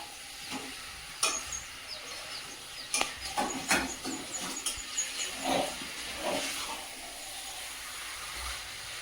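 Meat stirred and fried in a pan in a home kitchen gives a soft, continuous sizzle, with scattered clinks and scrapes of the utensil against the pan.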